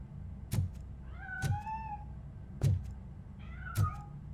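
A cat meows several times in the Robocop: Rogue City video game, with drawn-out mewing calls between sharp heavy thuds of footsteps or impacts, over a low steady game ambience.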